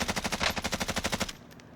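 A rapid burst of automatic gunfire in Call of Duty Warzone, about twenty evenly spaced loud shots fired in one continuous stream that stops abruptly, leaving a brief faint tail.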